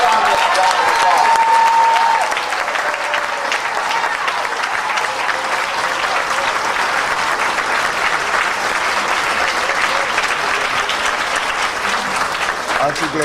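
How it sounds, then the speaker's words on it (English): An audience breaks into sustained applause for a speaker at a welcome and orientation program, a dense, steady wash of clapping that holds for many seconds with no talk over it. "let's give Mr. Ron Daniels a round of applause"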